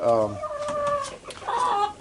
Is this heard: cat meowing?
no